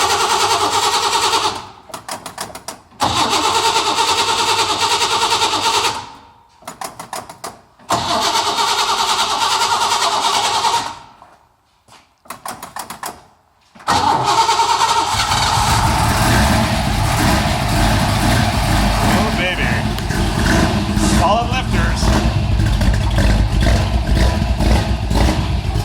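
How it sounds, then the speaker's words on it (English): A cold 409 V8 cranks over in several short bursts with pauses between, then catches and settles into a loud, steady rumbling idle close to the microphone. "Crank her up."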